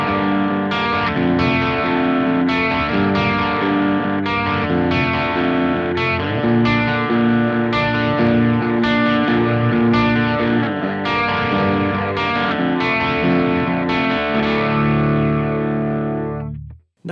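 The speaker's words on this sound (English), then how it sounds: "This is the Dual Phaser." Electric guitar played through the Dual Phaser effect of a Mooer GE150 Pro multi-effects unit, with distorted, swirling chords strummed repeatedly at a steady loud level for about sixteen seconds before cutting off abruptly.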